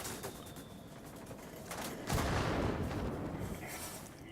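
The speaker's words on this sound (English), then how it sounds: "I'm going to drop a bomb here" A dropped bomb explodes in a flight combat game, a loud rumbling blast that swells suddenly and rolls on amid continuous battle noise.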